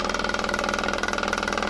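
A generator engine runs steadily at about 2149 RPM, a constant mechanical drone with a fast, regular pulsing throb and strong harmonic hum, close and unbroken.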